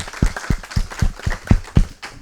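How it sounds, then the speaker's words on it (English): An audience at a conference session gives a brief round of applause, with irregular clapping bursts heard close and fairly loud, no talk over it. "I would like to hear a round of applause for everyone"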